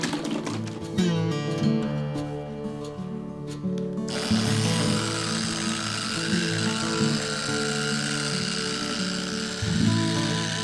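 Power buffer spinning against ambrosia maple guitar bodies with buffing compound, a steady loud motor whine with harmonic hum that turns brighter and harsher partway through as the wheel bites the wood, continuous with no talk.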